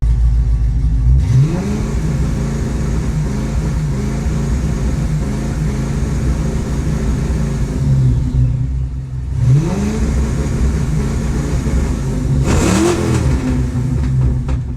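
A Ford Fox Body Mustang engine, just repaired, is revved up to around 2000 RPM and held there, a steady loud drone with a second rising rev near the end, close by with no talking.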